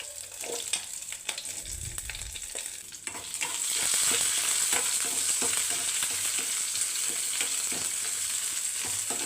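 Green chillies drop into hot oil in a pan and break into a loud, steady sizzle and crackle that swells after a brief dull thump, continuing evenly without talk.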